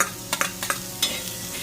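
Chopped onion frying in a pan for bombil thecha, a soft steady sizzle broken by a few sharp scraping stirs of a spatula, close and fairly quiet.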